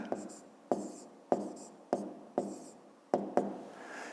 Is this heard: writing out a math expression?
yes